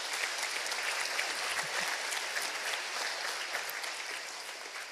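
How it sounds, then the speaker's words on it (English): Sustained applause from a conference audience honoring innovators at a global livestock sustainability event, a dense, steady wash of clapping that holds evenly throughout and tapers slightly at the end, with no voices over it. "can we give another round of applause to our innovators"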